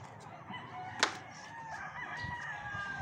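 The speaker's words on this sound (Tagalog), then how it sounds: "Mas maraming manok!" A rooster crows with drawn-out calls while nearby chickens cluck and squawk, one sharp squawk standing out early, in Masinloc, Zambales.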